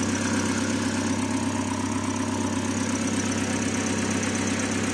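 A repaired air conditioner unit, idle for a year, runs steadily with a constant low mechanical hum and drone, loud and close, with no talk over it.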